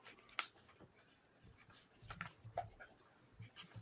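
A pencil scratches across paper, a series of soft, quiet strokes and taps at irregular intervals, recorded close up with no voices.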